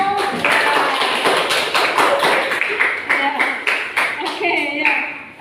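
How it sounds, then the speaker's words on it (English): Schoolchildren in a classroom clap together, a dense, steady burst of applause lasting several seconds, with voices calling out faintly beneath it. "Okay, applause for all."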